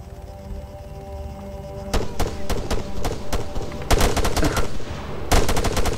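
Gunfire in the military sandbox game Arma 3 cracks out as sharp single shots and short rapid bursts over a low background rumble, growing denser and louder toward the end.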